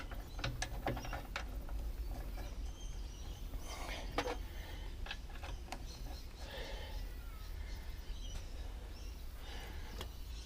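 Metallic clicks and ratcheting from bolts being tightened evenly on the oil end of an Ajax Myers 1 1/2 inch piston pump during an overhaul, a steady run of short taps over constant background hum.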